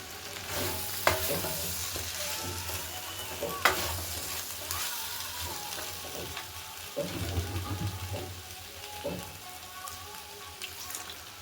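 Masala fries with beans in a pan, a moderate sizzle broken by repeated scraping stirs and occasional knocks of the spoon, close by and with no voices.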